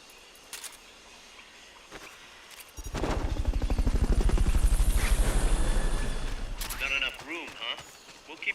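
Helicopter in the Metal Gear video game, a loud broadband rotor roar that swells in around the third second, holds for several seconds, then fades as other game effects take over.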